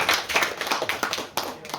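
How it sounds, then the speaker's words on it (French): Steady audience applause at a literary conference, many hands clapping densely and continuously, fairly loud throughout with slight surges. "Oui, vous pouvez les applaudir là maintenant."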